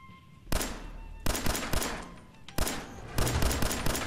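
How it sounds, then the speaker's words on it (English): Bursts of gunfire in Fallout 4, with sharp broadband shots clustered into three rapid volleys roughly a second apart, loud and close with a dull rumble between bursts and no talk. "Somebody's out there shooting the place up."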